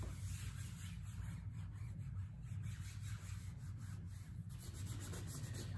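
A stencil is rubbed onto a fabric tote bag, making a faint, steady scratchy rubbing under a constant low background hum.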